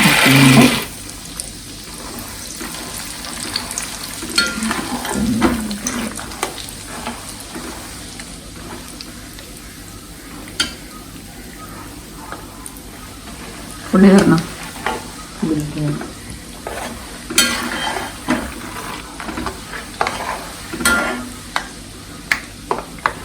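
Raw peanuts fry in oil in a pan for a spicy Kerala-style mixture, a steady close sizzle broken by repeated scraping stirs and louder bursts of clatter, with no talking.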